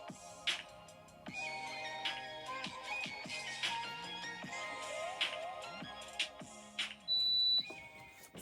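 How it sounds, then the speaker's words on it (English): A PYD Life mini sublimation oven with a tumbler inside gives a loud, steady, high-pitched beep near the end to signal it is done, over quieter mixed tones and household noise. "the oven has beeped, indicating that the tumbler is ready"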